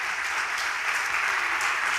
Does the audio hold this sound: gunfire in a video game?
no